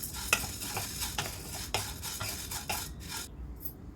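Dry red chillies and curry leaves sizzling in hot oil in a pot, with a spoon scraping and stirring over a steady crackle, a few sharp clinks, close up, fading out at the end.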